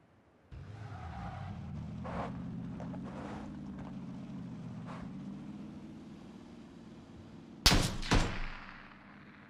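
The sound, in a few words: gunshot in the video game PUBG Battlegrounds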